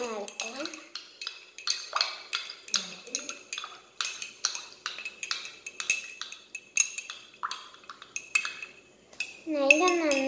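A spoon stirring pepper curry in coconut oil in a pan, with repeated scraping and clinking strokes in a steady rhythm up close, and a voice heard briefly.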